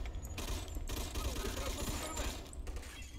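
Gunfire in the Mafia 2: Definitive Edition video game: a dense, loud, continuous barrage of shots that runs steadily from start to finish.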